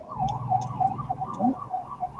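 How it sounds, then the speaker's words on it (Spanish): A siren wails at moderate volume, its pitch rising and falling in a steady repeating sweep over a low background murmur. "Che, escucho una sirena."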